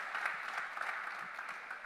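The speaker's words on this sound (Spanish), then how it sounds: "Dele un fuerte aplauso." A church congregation gives a soft, steady round of applause during a sermon, a faint and distant wash of clapping heard alone for a couple of seconds.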